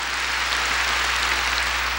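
A church congregation claps together during a 1992 Korean worship service, a brief, even wash of applause at moderate distance with no voices over it.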